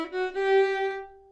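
A bluegrass fiddle plays the final lick of 'Take Me in the Lifeboat,' landing on one sustained, bright bowed note that rings clearly and fades out alone.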